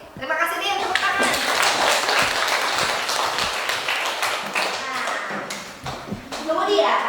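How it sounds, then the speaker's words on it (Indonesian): Classroom applause for a student after a history lesson answer, dense clapping from many hands with children's voices mixed in, steady and fairly loud throughout. "Tepuk tangan."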